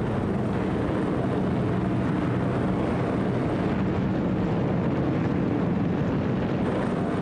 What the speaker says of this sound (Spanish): Más de 1000 aviones despegaron hacia la ciudad alemana de Colonia.